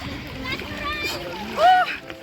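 Swimmers splash in a lake, with choppy water sloshing close by and a louder burst of splashing near the end, while a child and an adult chatter over it.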